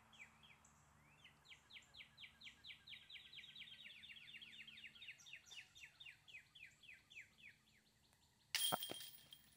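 A bird repeats a rapid series of rising chirps outdoors, fairly faint, then a sudden sharp crash bursts in near the end.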